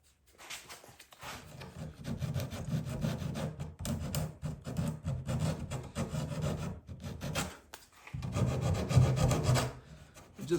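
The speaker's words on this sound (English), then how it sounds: "I will sand around these edges on the corner" Hand sanding along the edges and corners of a carpenter's wooden art piece makes a steady, close rasping rub in repeated strokes that starts after a quiet second and grows louder near the end.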